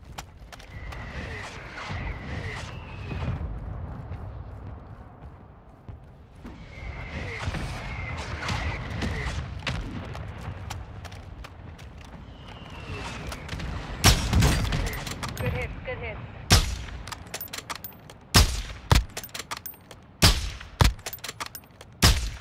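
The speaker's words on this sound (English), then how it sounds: "Mortar strike on the way." Mortar strike explosions in the game Call of Duty DMZ: a string of sharp booming blasts in the second half, loud and irregular, following a stretch of rumbling battle ambience with faint radio-like voices.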